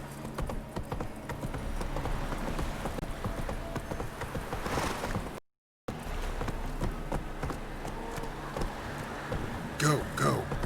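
Hooves of Roach, a horse in The Witcher 3, clip-clop at a fast gallop in a steady rhythm, with rain-like patter behind, a brief dropout midway, and a voice urging the horse on near the end.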